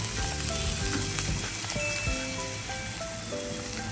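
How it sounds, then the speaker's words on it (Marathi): Fresh coriander is dropped into a hot oil tempering with turmeric for a Marathi besan dish, giving a steady, dense sizzle and crackle that fills the moment without any voices. "आपण ह्या फोडणीवर थोडीशी कोथिंबीर पण तळून घेऊया."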